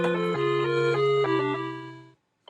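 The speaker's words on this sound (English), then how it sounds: "This is the sound of Mario dying in Super Mario Smash Brothers" A short descending electronic jingle of stepped tones, Mario's death sound in Super Smash Bros., bright and synthetic, ending abruptly in silence with a tiny click afterward.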